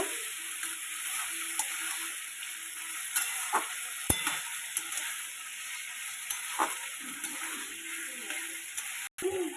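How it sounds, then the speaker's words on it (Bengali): Onions with ground cumin paste stirred and fried in a pan for a home-style banana-flower curry, a steady close sizzle with scattered soft scrapes and taps of the spoon, no voices. "ভালো করে পেঁয়াজ থেকে মিক্স করে কষিয়ে নেব"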